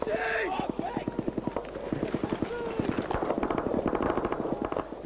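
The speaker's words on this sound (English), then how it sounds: "We are pinned down as the incoming bullets kick up the rock and the sand all around us." Incoming AK-47 fire pins down Royal Marines fighting the Taliban on rocky, sandy ground: a rapid string of sharp, evenly spaced cracks like automatic bursts, fairly close and loud, with voices shouting in between.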